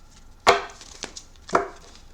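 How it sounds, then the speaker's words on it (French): Oracle cards being shuffled: three sharp riffling bursts spaced about half a second apart, close and fairly quiet with no voices. "je vais mélanger les cartes"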